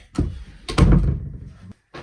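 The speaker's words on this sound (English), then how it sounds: "Let me shut this door that way." Two dull thuds come as a door is pushed shut indoors, a soft knock followed by a heavier closing thump, close by, then a short silence and a faint final tap.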